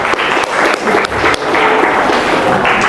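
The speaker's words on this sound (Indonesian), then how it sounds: "tepuk tangan untuk teknologinya" Seminar audience on Islamic education leadership breaks into sustained applause, a dense, steady wash of many hands clapping throughout with no voices standing out.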